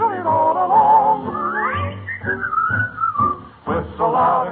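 Melodic whistling in an old radio show song, a bright sliding tune with sustained notes and short phrased bursts, loud and clear with no voices over it.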